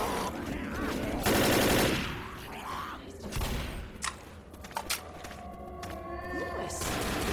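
Shotgun blasts and gunfire in a Left 4 Dead zombie shooter level set in Toronto, loud bursts of rapid shots and impacts over a dense game soundscape with ambient noise.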